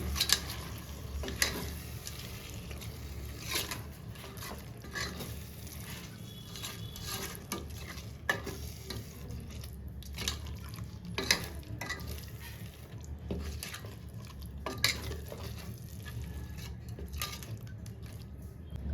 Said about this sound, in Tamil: ரைஸுக்கு முன்னாடி ஒரு கப்பு தயிர் ஆட் பண்ணிக்கலாம் நல்லா கிளறி விட்டுக்கலாம்